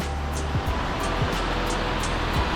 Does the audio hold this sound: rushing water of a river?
yes